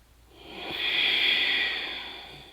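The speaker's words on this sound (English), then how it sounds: "Deep yogic breathing." One slow, deep yogic breath drawn through the nose during an Ashtanga yoga practice, a close airy hiss that swells smoothly over about a second and then fades gently, heard alone in a quiet room.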